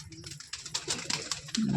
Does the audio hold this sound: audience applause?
no